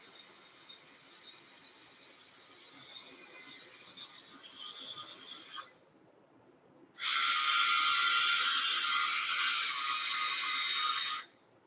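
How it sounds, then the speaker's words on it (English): A grooming product's electric shaving head attachment produces a steady high buzzing whine. It stops briefly, then resumes louder and continues alone for several seconds. "And to change it to the shaving head."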